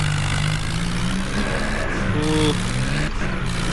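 Steady mid-pitched engine drone from a New Holland tractor pulling a stuck truck in the Indian Vehicle Simulator game, continuous and fairly loud with slight rises in pitch, no voices.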